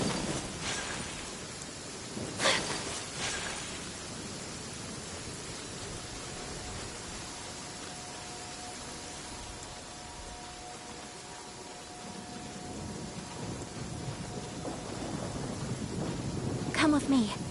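Rain and thunder in the game Chasm: a constant hiss of falling rain, with a couple of sharp thunder cracks near the start and a rolling rumble near the end, moderately quiet overall.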